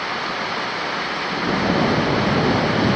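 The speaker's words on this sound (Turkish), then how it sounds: "Hava full yağıyor abi." Heavy, continuous rain pours onto a shelter among construction ruins on the Lycian Way in Turkey, a dense hiss that swells louder midway through.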